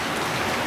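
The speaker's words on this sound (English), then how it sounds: "y'all see it's raining" Rain falls steadily outdoors near a street, a dense even hiss of drops with no voices, heard only briefly.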